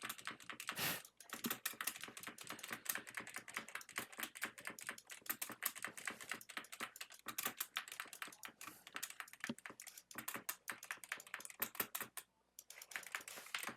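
A computer keyboard clatters with rapid, dense typing and repeated key presses, among them spacebar taps, fairly faint and continuous with short pauses, with no speech.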